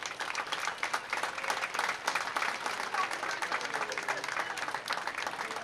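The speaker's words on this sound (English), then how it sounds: "Please give them all a round of applause." Crowd applause at the opening ceremony of the 2019 Jasper Strassenfest, a steady mid-distance round of clapping from many hands that carries through the whole stretch, with faint voices mixed in.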